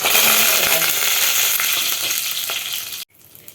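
Curry leaves crackle and sizzle loudly in hot oil with mustard seeds and urad dal, the tempering for tomato rasam, a dense close frying hiss that cuts off abruptly near the end.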